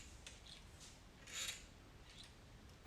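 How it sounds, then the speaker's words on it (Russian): A worn interior door handle squeaks as it turns, giving a few short, thin, high creaks spaced apart, with one longer squeal near the middle, faint and close in an otherwise quiet room. "у многих ручки на дверях рано или поздно начинают издавать вот такой вот звук"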